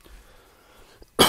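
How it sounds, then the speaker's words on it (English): A single short cough bursts out after a moment of near silence. "a minor cough that just doesn't want to leave me alone"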